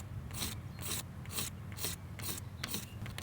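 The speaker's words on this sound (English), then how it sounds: "I'm going to actually land up above it and then scrape right through it like that" Hand scraper pulled across varnished boat wood in one direction, six evenly spaced rasping strokes of close, steady scraping with no talk.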